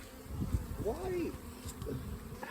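Honeybees hum steadily at an open beehive with brood comb, a close, continuous buzz with brief bits of talk over it.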